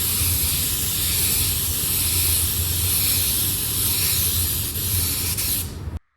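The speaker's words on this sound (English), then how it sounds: "Before we paint here now, we have to clean this with silicone remover." Silicone remover sprayed from an aerosol can onto a helmet to clean it before painting, a loud continuous close-up hiss lasting about six seconds before cutting off abruptly.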